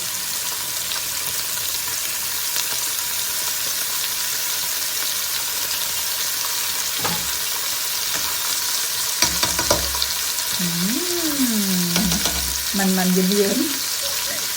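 Korean-style pork sizzles on a grill set up on a balcony in summer, a continuous close frying hiss with spattering crackles, and a brief wavering voice-like tone rises near the end.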